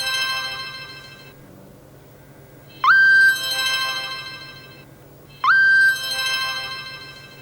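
An incoming call's ringtone sounds twice on a mobile phone in a Pakistani drama scene, each a bright rising electronic chirp that holds a steady tone, clear and alone over faint room tone.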